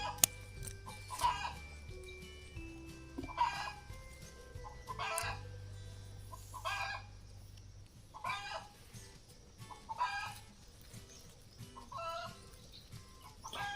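Chickens cluck repeatedly in short bursts while a rooster crows at intervals, close and fairly loud, with low background farm noise and no talk.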